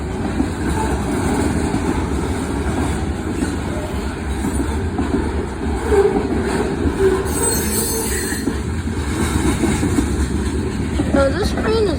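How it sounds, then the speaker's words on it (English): A long CSX manifest freight train rolls steadily past a road crossing, its wheels squealing and rumbling continuously at close range with faint clickety-clack, and a voice speaks briefly over the passing cars. "No, this train is long for some reason. There goes the end of it."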